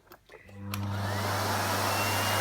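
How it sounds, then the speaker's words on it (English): A Miele Compact C2 PowerLine vacuum cleaner starts up after a few clicks, rising quickly into a loud, steady motor whine with a strong low hum that continues alone without talk. "I'll try not to talk too much whilst the vacuum's actually on"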